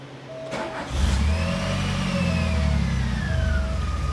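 A DeLorean time machine replica's engine cranks and catches, revving briefly before settling into a steady, rumbling idle at about 780–800 rpm close by.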